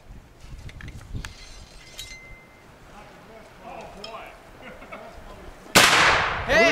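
A single loud gunshot cracks out near the end at an outdoor meat shoot competition, a sharp burst after a stretch of quiet woodland ambience with faint voices in the background.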